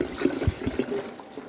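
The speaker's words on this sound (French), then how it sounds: "vous versez votre jus d'orange" Orange juice pours into a container in short, burbling gulps and splashes, close and moderately loud, fading toward the end, with no talking.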